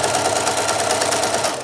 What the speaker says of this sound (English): I'm going to sew around them with a 1/4 inch seam allowance